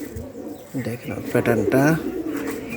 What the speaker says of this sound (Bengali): খুবই সুন্দর একটা প্যাটার্নের কবুতর।